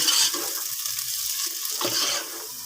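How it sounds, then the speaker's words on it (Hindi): Chopped onions fry and are stirred in a pan until light brown, a close, bright hissing sizzle with a couple of louder stirring bursts, no talk. "अच्छी तरीके से इसको मिक्स कर हम यहाँ पर प्याज को लाइट ब्राउन करेंगे।"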